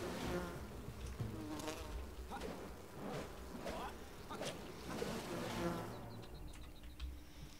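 Bees buzzing in the survival video game Enshrouded, a steady insect drone running throughout with scattered impacts and game sounds over it, while a person talks over the top.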